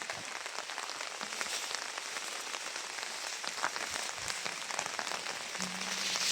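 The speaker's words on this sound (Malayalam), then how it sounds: "ചെറിയ മഴയൊക്കെ ഉണ്ട്" Light rain patters steadily in a soft, even hiss at a dam, with faint scattered drops and distant background sounds.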